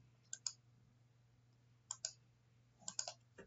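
Computer mouse clicks while saving settings in a hockey pool setup: three quiet groups of two to three sharp clicks spaced across a few seconds, over a steady low electrical hum, no talking.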